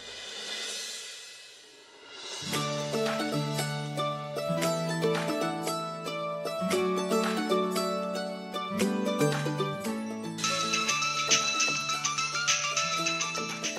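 A phone rings with an incoming call, a steady repeating melodic ringtone that plays loud and continuous for most of the stretch, with no talk over it.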